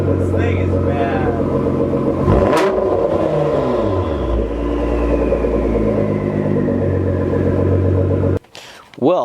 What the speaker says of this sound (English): I hope you guys enjoyed that little cold start